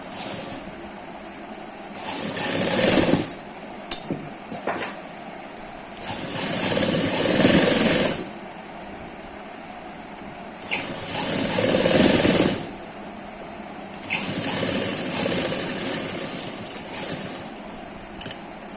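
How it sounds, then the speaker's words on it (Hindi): A sewing machine stitches a kurti jacket in four separate runs of steady mechanical whirring, each lasting a couple of seconds, with quiet pauses between them and no talking. "अब हम इस पर सिलाई चला लेंगे।"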